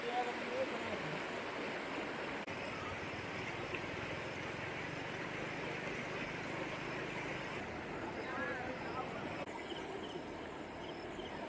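A river in flood rushes past where people have come to catch fish, a steady broadband roar of flowing water that holds constant and fairly close throughout, with no clear break.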